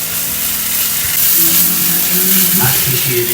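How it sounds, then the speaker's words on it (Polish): Steady sizzling of onion-roll filling with granulated garlic frying in a pan, with occasional scraping and clinking as it is stirred, loud and close throughout. "Mieszamy i smażymy."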